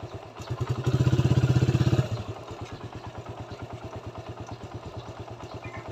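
A motorcycle engine runs close by, with a loud, throbbing rev lasting about a second before it drops back to a steady, fast putter that continues to the end.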